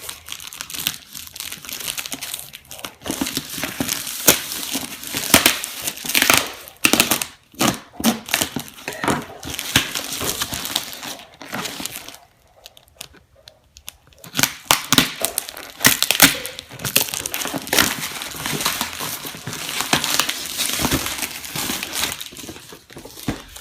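Packing tape on a box holding a JJRC X6 drone is cut and torn open, making dense crinkling, crackling and ripping noises that run almost nonstop, with a brief quiet stretch in the middle.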